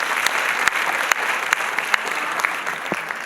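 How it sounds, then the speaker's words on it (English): Audience applause for young children at a pre-primary school annual day. Steady, dense clapping from the hall crowd, fairly close, with a few sharper claps standing out and no speech over it. "So I want you all to give a great round of applause to all our children."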